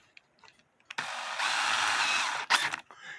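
A power drill whirs for about a second and a half while boring holes in an antique clock dial, starting abruptly after a few soft taps and ending with a brief sharp burst.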